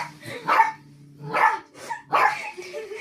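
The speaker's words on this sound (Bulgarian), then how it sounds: "Куче, спри да лаеш, моля ти се" A dog barks three times in sharp, separate bursts about a second apart, close and fairly loud, with faint background noise between the barks.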